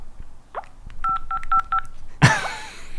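A basic phone's keypad beeps through a quick run of four or five dialing tones after a faint first press, followed by a sharp clatter near the end, close and clear without speech.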